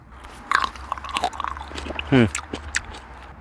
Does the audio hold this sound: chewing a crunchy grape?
yes